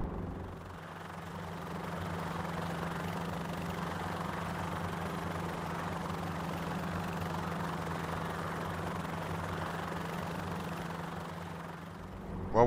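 A helicopter in the X-Plane 11 flight simulator drones steadily, seen from outside, with a constant rotor and engine hum and a low tonal rumble holding at a fairly loud level.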